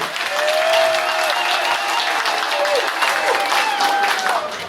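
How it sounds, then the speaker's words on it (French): Applause from an audience at a Cameroonian community enthronement ceremony in Switzerland, a brisk close clatter of clapping running throughout, mixed with crowd murmur and sustained tones underneath. "qu'on applaudisse s'il vous plaît"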